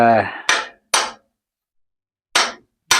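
A punch struck with a hammer against metal bolts during a teardown gives four sharp, loud metallic blows in two pairs with a pause between, and a brief voice is heard just before the first.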